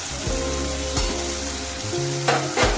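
Potatoes frying in hot oil with cumin seeds, a steady close sizzle with a few brief clinks partway through, no talking.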